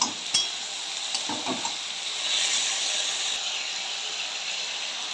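Tomatoes and green chili frying in a pan with a little water, salt and turmeric, a steady soft sizzle and hiss with a few light stirring scrapes near the start.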